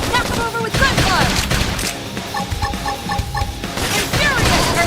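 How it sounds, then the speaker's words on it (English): Rapid gunfire and crashing impacts in an action video game, dense bursts of shots mixed with clanks and chiming effects, loud and continuous throughout. "Knock him over with Gunfire!"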